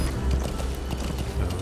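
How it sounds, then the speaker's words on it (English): Horse hooves clip-clopping at a steady pace while riding through the desert in the video game Metal Gear Solid 5: The Phantom Pain, a rhythmic run of thuds over a low rumbling game soundscape. "Riding a horse through the desert."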